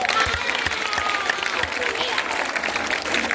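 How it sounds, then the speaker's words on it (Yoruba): An audience claps steadily through a Yoruba-language school quiz at St. Luke's College, Molete, Ibadan: a dense, sustained wash of applause with voices heard beneath it. "Gbogbo alágbádùn ẹ̀ ó yẹ fínà pàtẹ́wọ́ fún un"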